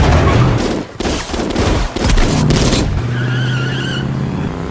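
A car speeds and skids through a brutal movie action scene with gangsters, loud engine roar and tire screech mixed with bursts of gunfire, ending in a sustained tonal whine.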